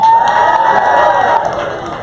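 A viewing party audience for a drag competition premiere bursts into loud, sustained cheering and whooping with some applause, the crowd noise close and dense before easing slightly toward the end.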